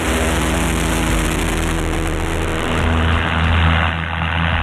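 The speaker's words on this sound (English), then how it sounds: "That massive noise is the sound of 20 push-suck cycles every second." A pulsejet engine with no moving parts mounted on a go kart roars in a loud, continuous, buzzing drone at about twenty pulses per second, steady for the whole stretch.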